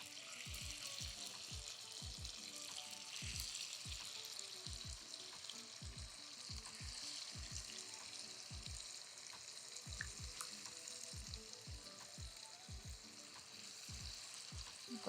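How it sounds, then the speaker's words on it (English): Marinated soya chaap frying in plenty of hot oil for a vegan butter chicken curry, a steady close sizzle with repeated bubbling pops and crackles that runs throughout without any talking. "I'm going to let it fry really well in the oil now."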